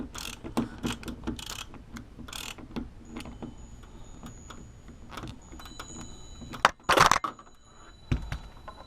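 A Phillips screwdriver backs screws out of an exterior door knob, giving a string of close, dry ratcheting clicks and small metallic rattles, with a sharper louder clatter near the end.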